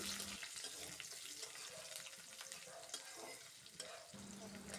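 Ingredients fried in a pan for a beef and jackfruit seed curry, a close continuous sizzle with scraping and stirring noises, a faint low hum in the background and no talking.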